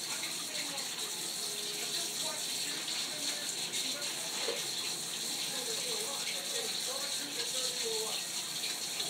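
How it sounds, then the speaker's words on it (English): Hands rinsed under a running tap during slime making, a steady close gush of water that stays even throughout with no break. "rinse my hands off really quick"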